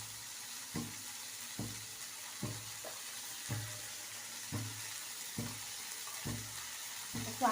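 Garlic sizzles faintly in a pan under a steady hiss, with regular stirring scrapes and taps repeating about once a second, close and quiet.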